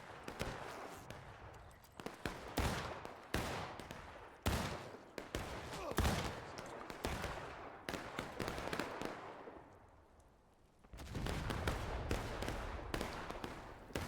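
Gunfire in a Civil War battle video game set in a Tennessee River campaign: rapid, irregular volleys of sharp musket cracks, near and loud, with a brief lull before the firing resumes densely.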